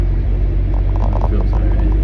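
A 1997 Jeep Wrangler rolls along an unpaved road and into a patch of mud, its engine giving a steady, close, low rumble throughout, with some faint talk mixed in.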